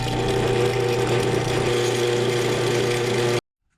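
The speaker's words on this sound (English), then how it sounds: "we will punch a hole with our drill press right in the middle of this" A drill press bores a hole through the middle of a wooden pipe jig, a steady close whirring motor and cutting drone that runs unbroken, then stops abruptly into silence near the end.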